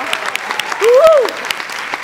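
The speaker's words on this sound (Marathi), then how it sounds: "क्या बात है, जोरदार टाळ्या" Loud audience clapping bursts through a comedy show stage moment, sharp overlapping claps with a rising tonal sound swelling briefly in the middle, voices faintly present.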